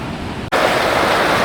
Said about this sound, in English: the water is flowing quite rapidly today. It's almost got some white water going on here.